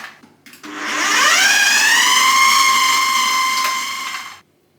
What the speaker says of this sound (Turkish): Şimdi çekerek püre haline getireceğim.